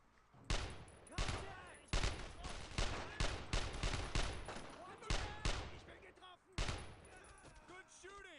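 Bursts of war video game gunfire, with sharp shots and rapid automatic volleys arriving in irregular clusters of loud, close cracks over about eight seconds, with faint background activity between them.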